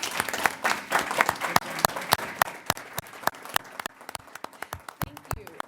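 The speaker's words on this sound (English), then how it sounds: "So let's give her a round of applause." A conference audience applauds at a general session, dense rapid clapping from many hands that stays steady and then thins into scattered individual claps toward the end, with no talking over it.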